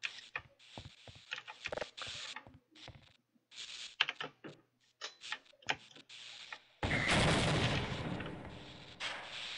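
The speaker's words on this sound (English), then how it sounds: "Why are things exploding?" Gunfire and explosions in the video game Half-Life: Opposing Force: scattered sharp cracks and thumps through the first part, then a loud, sustained burst of blasts and roaring debris that fills the rest.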